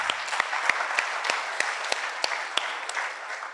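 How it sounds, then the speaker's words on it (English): Audience at a school debate competition applauds the team, steady crowd clapping with a few sharp, distinct near claps standing out in a loose rhythm before it fades slightly. "Give them a round of applause."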